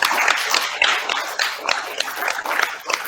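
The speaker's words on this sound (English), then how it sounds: "One more round of applause for everyone" Applause from an audience at an online workshop event, a dense, steady patter of many hands clapping close to the microphone for a few seconds, with no voices over it.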